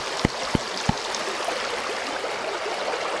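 A brook flows steadily with broadband rushing water noise, constant and fairly loud, with three sharp knocks or clicks near the start and no voices.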